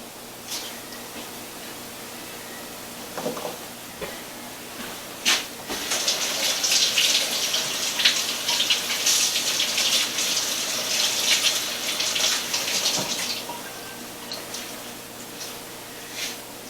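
A kitchen tap runs steadily as freshly harvested onions and their greens are washed, the hiss of water swelling fuller in the middle stretch with a few clunks and splashes, no voices.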